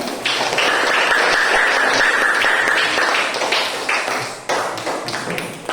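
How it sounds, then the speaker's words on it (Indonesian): A classroom of students claps together, dense and steady applause that gradually thins out toward the end. "berikan tepuk tangan untuk kelompok"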